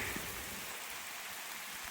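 Steady rain falls outdoors on a grassy schoolhouse lawn, a soft continuous hiss of drops with no talking.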